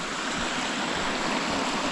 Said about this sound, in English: You can see this meandering stream. It's actually Tyndon Creek, going over this little footbridge,